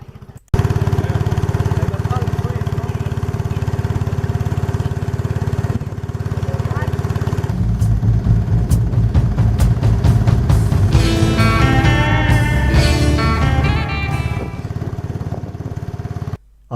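A motorboat engine on a rainforest river ride near Puerto Maldonado, Peru, drones steadily and loudly throughout, with voices talking over it and a brief clattering midway.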